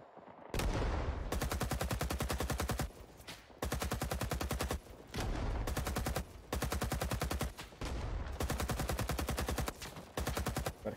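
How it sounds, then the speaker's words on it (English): Sustained suppressive automatic gunfire in Rising Storm 2: Vietnam, loud and close, in long rapid bursts separated by short pauses across the whole stretch, with no talking. "Bit of suppressive fire there."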